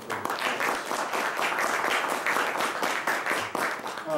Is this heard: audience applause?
yes